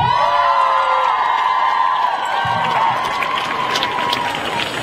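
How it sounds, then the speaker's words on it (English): Crowd at an outdoor youth climate strike rally at the Minnesota State Capitol, loud continuous cheering and applause with whoops and shouting voices filling the whole stretch, steady and close. "Another round of applause for everybody here."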